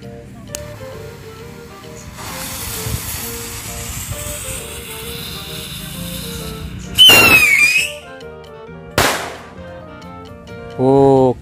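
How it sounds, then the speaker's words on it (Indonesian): Chinese pyro firecrackers go off outdoors: a whistling rise, then sharp loud bangs at intervals, close and punchy, with quiet moments between. "itu dia tadi petasan pironya seperti itu, lumayan mantap"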